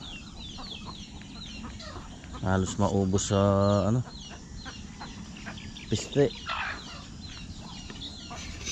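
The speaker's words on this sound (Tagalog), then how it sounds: "Ngayon manok naman ang pinakamarami ngayon." Chickens cluck and crow on a Filipino farm raising poultry, with insects buzzing and a person speaking briefly over the birds.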